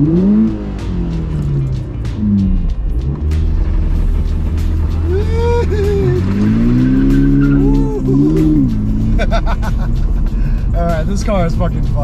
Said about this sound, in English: I'm gonna do a little burnout.